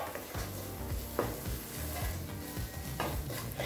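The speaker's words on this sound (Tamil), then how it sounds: "ஒரு நிமிஷம் வரைக்கும் நல்லா வதக்கிக்கலாங்க" Chana kurma masala sautéing in a pan gives a steady, close sizzle with repeated scraping and stirring strokes of a utensil, with no talking.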